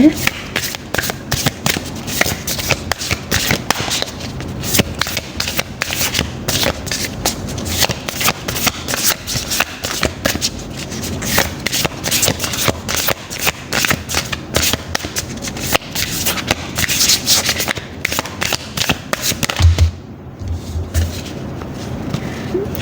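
Tarot cards are shuffled continuously and loudly up close, a dense riffling patter that runs almost without a break and pauses only briefly near the end.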